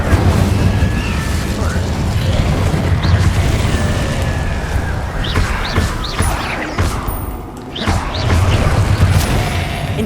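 Incendio fire spell cast in Hogwarts Legacy on PS5, a loud rumbling blast of flame with bursts and crackling effects layered over continuous game sound for about ten seconds.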